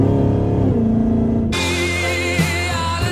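A 1,000-horsepower Dodge Hellcat engine roars up through the revs, a deep rumble jumping into a loud, harsh, rising howl as the car accelerates hard, close and dominant.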